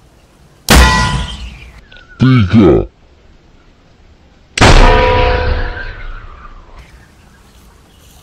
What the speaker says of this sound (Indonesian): Kita coba nyalakan meriam Spiritus ke dalam tabung jumbo warna